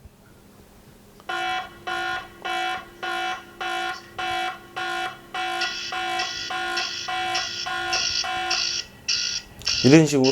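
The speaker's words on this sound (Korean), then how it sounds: "경보음 재생" A security IP camera's electronic alarm siren beeps in a steady series of loud pulsed tones, growing denser partway through, with a brief voice at the end.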